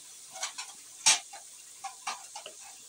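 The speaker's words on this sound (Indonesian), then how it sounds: "Kita goreng ni, masak ni lebih kurang 10 minit macam tu lah." Venison pieces frying in a pan over a home kitchen stove, stirred with a utensil: soft sizzling under a few scattered scrapes and clicks, one sharper knock near the middle, no talking.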